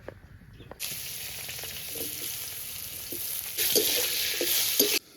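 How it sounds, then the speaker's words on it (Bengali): Radish frying in a pan with oil sizzles steadily, starting up after a short quiet moment and growing louder partway through, with occasional scrapes and clinks of stirring before it cuts off abruptly. "এবার মূলোটা ভেজে নিচ্ছে"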